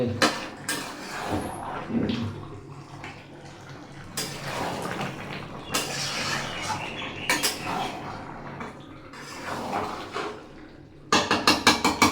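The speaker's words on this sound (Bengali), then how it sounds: "এই যে সুন্দরভাবে কষিয়ে নিচ্ছি মাংসটা" Meat is sautéed and stirred in a pan, with clanking spoon-on-pot knocks and scraping in irregular bursts over a low sizzle, close by, ending in a quick run of rapid metallic taps.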